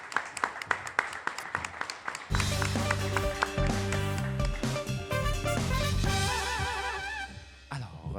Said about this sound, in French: On va applaudir à nouveau Denis, s'il vous plaît